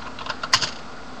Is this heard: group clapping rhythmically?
no